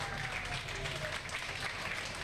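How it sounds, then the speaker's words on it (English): A crowd at a youth baseball World Series game in Laredo, Texas, applauds the champions from Hermosillo, Mexico. The clapping is moderate and spread out, with faint crowd noise and a voice mixed in. "Big round of applause to Mexico World Series 2024 champions."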